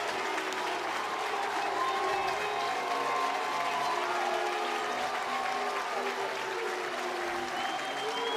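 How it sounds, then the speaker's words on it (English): A Troy baseball crowd at Riddle Pace Field cheering and applauding, a steady, dense roar of clapping and voices from a large crowd that holds for the whole stretch, with an announcer talking over it. "Listen to this Troy crowd start to get up."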